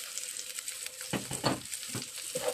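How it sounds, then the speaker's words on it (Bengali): Cumin and a medium-sized onion frying in white oil in a pan, a soft continuous sizzle broken by a few louder crackling bursts as the onion is stirred, no talking. "জিরাকে একটু নেড়ে ছেড়ে বেজে নেওয়ার পরে দিয়ে দিচ্ছি পেঁয়াজ।"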